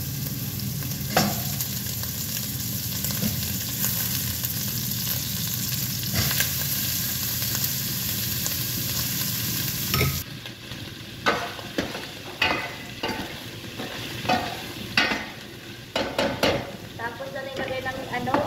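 Meat sizzles and fries with onion and garlic in a hot pan while it is stirred, a steady close crackle broken by sharper scraping stirs toward the end.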